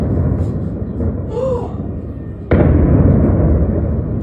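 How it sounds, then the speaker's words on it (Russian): A loud explosion bursts out from a large fire over a constant roaring rumble, and a faint voice is heard before it. "Такой у нас тут мощный пожар со взрывами"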